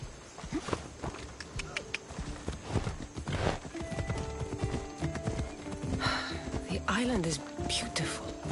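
Horse hooves clip-clopping at a steady gait in Assassin's Creed Odyssey, with an occasional whinny, continuing under spoken dialogue and ambient game sound.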